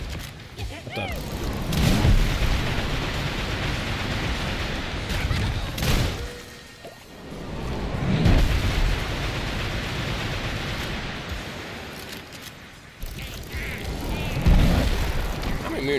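Deep booming explosions from the video game Sulfur, several heavy blasts a few seconds apart with rushing noisy tails, while a player talks over them.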